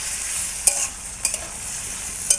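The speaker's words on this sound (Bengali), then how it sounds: "দেখো অল্প নেড়ে চেড়ে নিচ্ছি।" Vegetables stirred and fried in a pan: a constant oily sizzle broken by three sharp scraping clacks of a spatula against the pan, close up and without speech.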